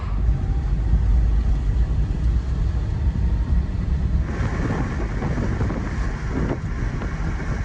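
A salvage Porsche Cayman GT4 on a road trip pulls onto a highway, its motion heard as a constant low road roar with heavy wind buffeting. The roar lifts slightly in the last few seconds, and no one speaks.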